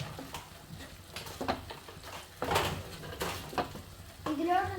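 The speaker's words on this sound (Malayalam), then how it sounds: "ഇനി നമുക്ക് വീണ്ടും മിക്സ് ചെയ്യാം" Spoon scraping and clinking against a pan while small prawns are stirred into a Kerala-style roast masala with turmeric, garam masala and chicken masala, a series of close, irregular metallic scrapes with a soft sizzle beneath.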